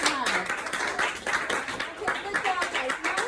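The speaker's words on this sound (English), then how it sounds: "Round of applause for them" A classroom of kids gives a short round of applause, a busy patter of clapping with scattered voices and chatter mixed in throughout.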